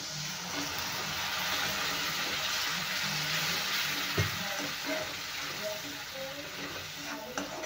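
Onion masala for a dried bombil chutney sizzles steadily in a pan after a little water goes in, a continuous close hiss with a few small knocks and clinks and no talking.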